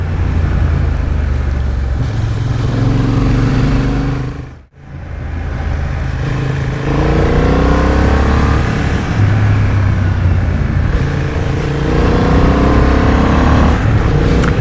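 A Honda Hornet CB750 motorcycle being ridden, its engine droning loudly with rising revs and gear changes amid heavy wind rush, broken by one brief drop near the middle before pulling hard again.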